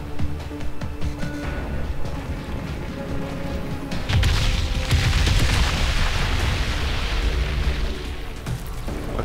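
Turret fire and explosions in Crysis 3: repeated booming blasts and crashing impacts, with a heavier, sustained rumble of explosions in the second half, loud and close and without talk.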